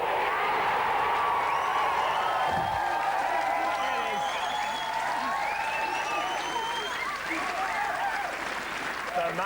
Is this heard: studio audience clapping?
yes